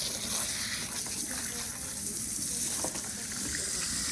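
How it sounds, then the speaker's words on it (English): Water sprays steadily from a salon spray nozzle while shampoo is rinsed out of hair, making a continuous close hiss and splash that holds at an even level throughout. "rinse all the bubbles off your hands and then rinse at the hairline all the way down"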